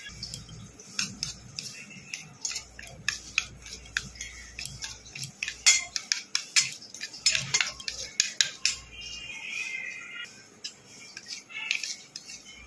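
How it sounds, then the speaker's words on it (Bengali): A spoon clinks and scrapes in a bowl as ground cumin, coriander, turmeric and salt are stirred into a little water, with rapid irregular taps and scrapes close to the microphone and no talking. "একটুখানি জল দিয়ে ভালো করে গুলে রাখলাম"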